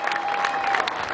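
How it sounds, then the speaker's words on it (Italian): A crowd claps at an outdoor award ceremony during a memorial sporting event, a short burst of close, dense applause with a steady tone running underneath. "Andiamo su, qua fuori applauso"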